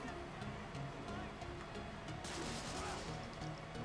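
Gunfire in the World War II shooter Medal of Honor: Frontline, set in a port, with dense crackling shots running steadily through a noisy battle scene and faint voices beneath.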